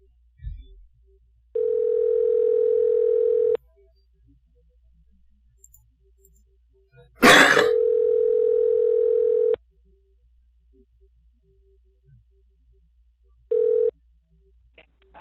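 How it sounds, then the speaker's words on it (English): A phone ringing at a live-streamed haunted-house scare event, with steady electronic ring tones lasting about two seconds each, the first two long and a third cut short, separated by silence and one loud crackling burst. "it's ringing like a real phone"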